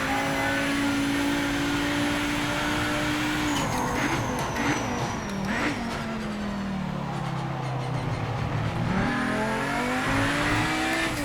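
A race car engine in Project Motor Racing revs hard out of a corner, its pitch sweeping up through the gears and then dropping and climbing again. The engine is loud and steady, with no talk over it.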